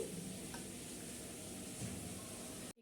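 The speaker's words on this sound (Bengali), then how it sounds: "এখানে পানিটা ফুটতে শুরু করেছে" Water in a pot on a stove, set to cook sago pearls for a dessert, coming up to a boil: a steady faint hiss and low bubbling that runs evenly throughout, with no voices.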